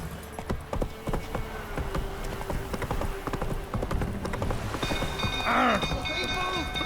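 Roach, a horse in The Witcher 3, trots with steady, crisp hoof clip-clops against a constant rain-like hiss. Near the end, a brief tonal call rises over the hoofbeats.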